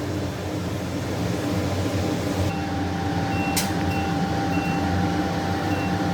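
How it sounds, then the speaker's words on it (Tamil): A steady, loud whooshing hum of a kitchen exhaust fan runs continuously, with a brief faint beep partway through. "மேலே சிம்னி ஓடுறது சத்தம்,"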